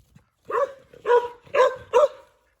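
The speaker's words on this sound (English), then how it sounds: "His strategy is to bark at the chickens and ducks." A dog barks at chickens and ducks on a farm, giving four loud, close barks in a quick, evenly spaced series with short silences between them.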